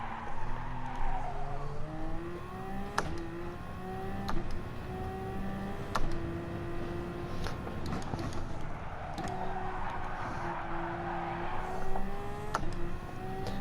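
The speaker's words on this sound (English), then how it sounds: "And brake and gear down smooth. Down to second." A race car braking hard and downshifting toward a corner on a circuit, engine pitch stepping down through several gear changes with sharp blips, close and loud throughout.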